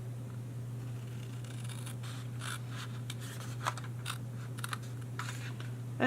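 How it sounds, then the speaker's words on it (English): Scissors cut a wedge out of paper for a craft shaker box, giving soft irregular snips and paper rustles over a steady low electrical hum, close but quiet. "Cut up the wedge there. Straight cut. Cut out a wedge."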